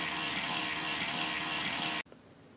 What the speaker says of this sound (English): the flywheel spins up, as you can probably tell